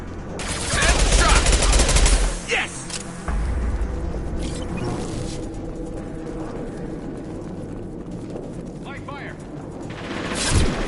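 Gunfire from a Krogan in the Mass Effect 2 video game, with dense bursts of shooting and heavy thuds at the start, then continuing firefight clatter and mechanical battle noise throughout, with brief voices in the mix.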